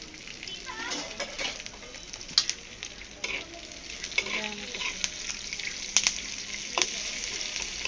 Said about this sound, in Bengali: তারপরে পেঁয়াজ, কাঁচামরিচ দিয়ে আমি একটু নাড়াচাড়া করব।